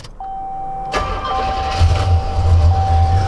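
A junkyard Buick Grand National engine cranks with a short starter whir and catches, then settles into a steady, close, rumbling idle, with a thin high whine running throughout.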